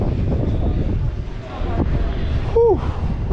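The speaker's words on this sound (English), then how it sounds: "It's so windy." Strong wind buffets the microphone on a San Francisco street walk between Lombard Street and Fisherman's Wharf, a loud continuous rumble with gusts, and a brief whistling sound near the end.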